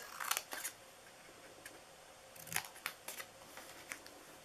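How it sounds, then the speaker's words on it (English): Several crisp snips of scissors cutting paper for a hexagon treat box, in short uneven bursts with brief pauses between, close and fairly quiet. "I am going to use my scissors and we're going to cut this."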